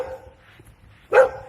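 A dog gives a single short, sharp bark at moderate distance after a stretch of low, quiet background murmur.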